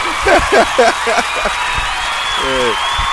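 Studio crowd applause and cheering at a live sports talk show, running as a steady wash beneath a man's loud speech that dominates the foreground.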